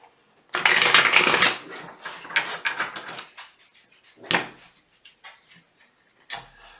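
Tarot cards shuffled in a quick, dense riffling burst up close, then a few softer separate slides and snaps as cards are drawn, alone with no talk.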